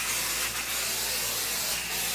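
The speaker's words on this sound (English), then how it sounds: "I'm going to take a little bit more basting spray and just spray this on top, coat it nice" Basting spray hisses steadily from an aerosol can onto quilting fabric, a close, continuous spray with two brief swells in intensity.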